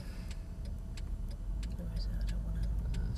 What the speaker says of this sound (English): as soon as you take your foot off the brake, the car will move nice and gently